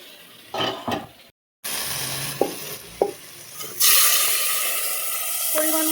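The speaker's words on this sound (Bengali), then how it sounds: "পরিমাণ মতো গরম জল দিলেই হবে" Hot water poured into a pan of sizzling chicken for biryani sets off a sudden loud, steady hiss after a few scrapes and stirs, the sizzle carrying on close by.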